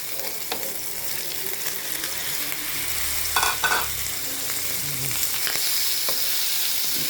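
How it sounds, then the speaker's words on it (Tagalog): Pork and liver frying for Filipino igado, a steady close sizzle with occasional stirring clatter in the pan, no talking. "Kunting prito din ang liver."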